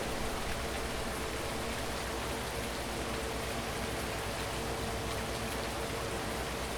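Steady rain falls in a farming video game, a dense, even hiss of downpour holding constant and fairly loud throughout, with no voices.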